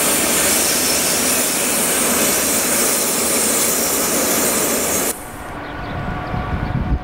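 A WFL electric locomotive, number 114.006, running with a loud, continuous roar that cuts abruptly to a quieter, rougher rumble partway through, with no talk.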